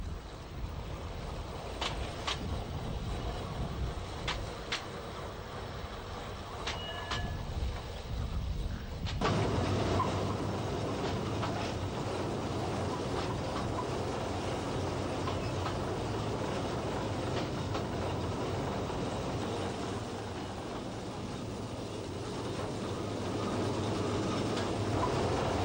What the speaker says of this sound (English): This one, C80, built by Bodnamona in 1972, has a Morris Minor engine.